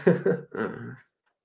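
A short bout of throat clearing and coughing, close and dry, in two quick bursts followed by silence.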